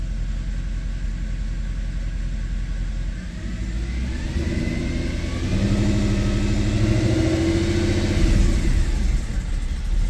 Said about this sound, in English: Let's rev it up, see if we start seeing misfires.